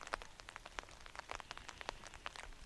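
Steady rain falls on a garden in early June, a soft continuous patter with scattered distinct drops, faint and with no one speaking.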